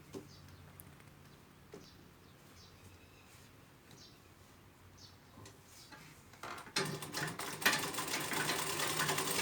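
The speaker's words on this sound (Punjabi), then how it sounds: "ਹੁਣ ਇੱਧਰ ਦਾਦੀ ਮਾਂ ਮੰਮਾ ਦਾ ਸੂਟ ਸਿਉਂ ਰਹੇ ਨੇ ਤੇ ਆ ਵੀ ਆਪਾਂ ਅੰਬ੍ਰੇਲਾ ਮਸ਼ੀਨ ਲਿੱਤੀ ਹੈ ਮਹਿਕ ਕੰਪਨੀ ਦੀ" A Mehak umbrella sewing machine stitching a suit at home: a soft, steady mechanical whir with light ticking runs for most of the stretch, then rises to a louder, rougher rattling run near the end, with no one speaking.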